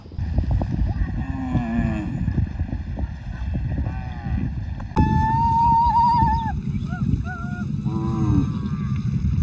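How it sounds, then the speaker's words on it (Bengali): Cattle lowing on a Jamuna river char, several moos rising and falling over a steady outdoor rumble, with a louder, nearer bellowing stretch in the second half. "তোমার গরু সব আসছে তোমার গুলো আসছে"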